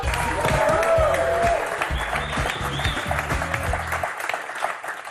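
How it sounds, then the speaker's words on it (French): A studio audience on a French word-game show claps for the contestants, a dense, loud burst of applause that holds steady for about four seconds and then fades away. "Romane, François, on vous applaudit très très fort"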